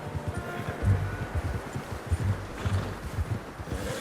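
Horse hooves clip-clopping at a steady walking pace in Red Dead Redemption 2, close and fairly loud, with soft rustling underneath and no talk.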